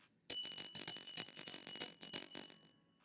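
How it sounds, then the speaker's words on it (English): A bicycle bell rung repeatedly to open a live chat show segment, about a dozen quick bright rings in a steady run, loud and close, with no talking. "Gotta start off Truth Talk with Truth Bell"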